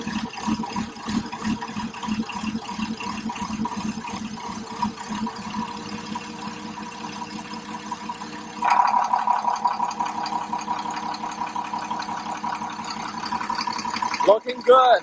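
A car engine runs after cooling system repair work, turning over and then settling into a steady idle with a continuous hum, and the tone shifts and gets louder partway through.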